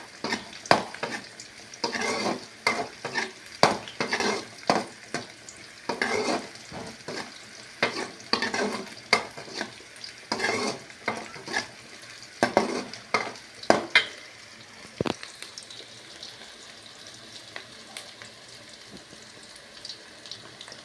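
Sliced onions and green chillies frying in oil in a pan for chicken pallipalayam, with repeated scraping stirs and sizzle bursts close up, easing into a softer hiss near the end; no one speaks.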